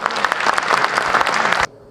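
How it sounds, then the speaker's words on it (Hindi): Enthusiastic applause from a crowd at a World Mountain Day celebration, dense steady clapping that stops abruptly. "शुक्रिया जामपुर रहने के लिए भरपूर तालियां।"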